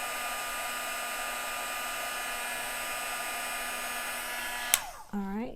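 A heat gun melts embossing powder on a handmade snowflake pocket card, blowing a steady whirring hum with a tonal whine for almost five seconds before a click cuts it off and the motor winds down.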